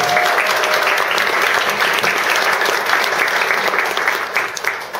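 An indoor gathering claps for an honored guest being introduced, a full, continuous round of applause that stays strong before thinning slightly toward the end.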